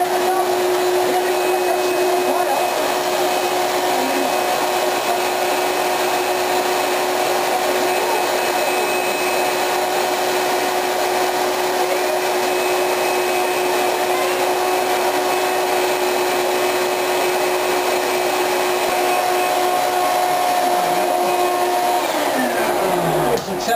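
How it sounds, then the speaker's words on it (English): A vacuum cleaner runs steadily at a loud, constant droning whine throughout, with a slight shift in pitch near the end. "We take our vacuum cleaner."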